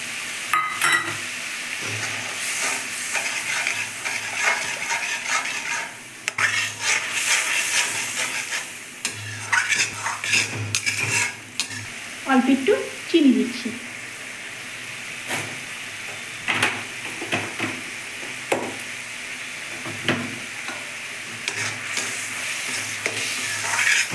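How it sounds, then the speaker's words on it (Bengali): Yogurt going into a hot pan of spiced masala for a Bengali spicy katla fish curry, stirred with steady scraping and sizzling hiss throughout, with brief louder clatters and bubbling bursts, no talking. "এবার আমি দই দিচ্ছি।"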